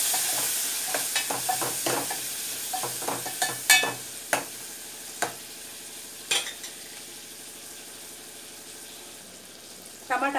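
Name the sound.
frying chopped tomato pieces in a pan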